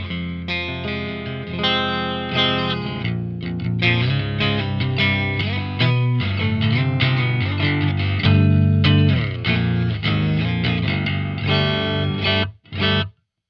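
A baritone electric guitar with Guyker pickups in split-coil mode plays heavily distorted riffs through effects, thick sustained chords and chugging notes filling the passage loudly before cutting off abruptly near the end.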